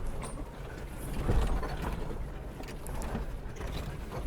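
A Lexus SUV crawling off-road on a Jeep trail in 4-low first gear gives a low, steady mechanical rumble with faint creaks and clunks, close by and moderately quiet, without speech.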